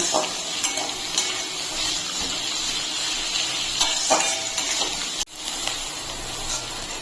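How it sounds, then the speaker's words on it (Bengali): Onion, ginger and garlic frying in hot oil for a soybean curry give off a steady, close hiss with light clinks of stirring and a brief break near the end. "এখন আমি পেঁয়াজটাকে একটু ভেজে নেব"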